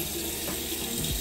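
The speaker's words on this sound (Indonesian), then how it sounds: "nih ada selalu air dingin, nih air panas gitu ya" Water running steadily from a tap in a New York hotel room, a close, constant splashing stream into the basin with faint mechanical clicks near the end, no voices.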